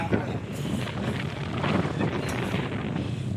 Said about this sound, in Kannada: ಏನು ಗಾಳಿ ಅಂದರೆ ಮಾತ್ರ ಗಾಯ್ಸ್, ಸೂಪರ್ ಗಾಳಿ.